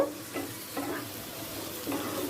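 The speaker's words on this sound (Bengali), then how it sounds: "এবার একসাথে সব মশলাগুলোকে পেঁয়াজের সাথে মিশিয়ে নেব" Spices and onions for a Bengali soya curry being stirred in a frying pan, with soft spatula scrapes every half second or so over a low, steady sizzle, close and fairly quiet.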